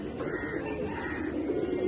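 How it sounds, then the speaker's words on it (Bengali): A barless pigeon coos in a low, steady, soft murmur that stays continuous and close, with no other sounds. "এই যে একটা বার্লেস কবুতর"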